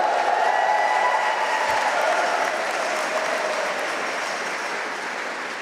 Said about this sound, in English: Yeah, you can clap and cowbell for that.